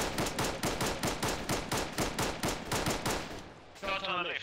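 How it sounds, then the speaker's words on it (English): Rapid gunfire from the left in the military shooter Arma 3, a long run of sharp, evenly spaced shots in quick succession, loud and close, breaking off near the end before a brief burst of other sound. "Because now we're getting shot fired from the left"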